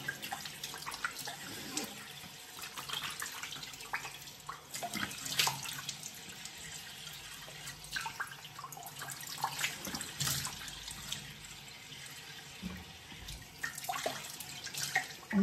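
Water runs and gurgles from a tap or drain, splashing unevenly with irregular surges and drips throughout, fairly close and without speech.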